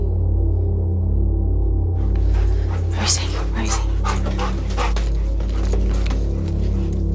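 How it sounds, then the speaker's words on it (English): A police dog pants rapidly and steadily amid a burglary search on a police TV show, with soft whimpers and a loud low rumble underneath, and a voice speaks over it. "Dog on the loose."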